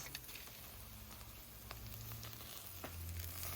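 Oil sizzling as khorovats barbecue cooks, a faint steady hiss with occasional soft pops and crackles, no voices.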